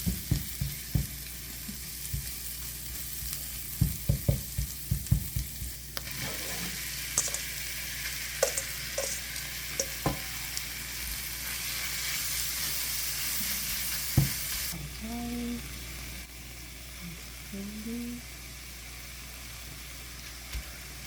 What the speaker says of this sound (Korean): 다진 마늘 한 수저 넣고 볶아줍니다.